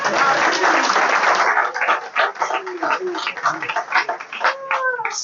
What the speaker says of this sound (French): Applaudissez-moi ça.